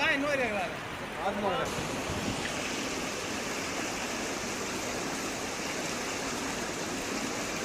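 Rainwater flows over roads after a heavy downpour, a continuous broad rushing wash like a stream. A voice speaks briefly at the start, then the steady water noise continues alone.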